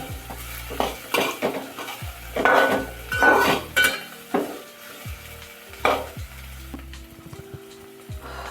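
Fresh cashews and grated coconut being stirred and sautéed in a pan for a Konkani-style curry, with a spoon scraping and clinking against the pan in irregular strokes over a soft, steady sizzle.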